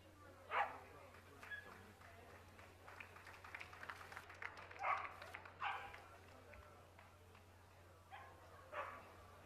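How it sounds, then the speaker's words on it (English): A White Swiss Shepherd Dog (Berger Blanc Suisse) lets out faint, scattered barks and yips at a distance, spread irregularly over a low hum, with murmured voices in the background. "The White Swiss Shepherd Dog, known as the Berger Blanc Suisse"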